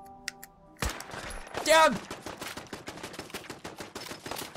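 Gunfire in the video game Fallout 4 during a sniper build playthrough: a few sharp shots and a burst, followed by a rapid clattering run of impacts, with a man exclaiming over it.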